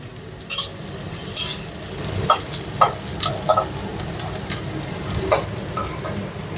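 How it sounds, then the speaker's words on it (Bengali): Chopped onion fries lightly in a pan for dal dosa, a soft background sizzle broken by scattered clicks and taps of a spoon against the pan, no one talking. "পেঁয়াজটাকে একটু হালকা ভেজে নিতে হবে।"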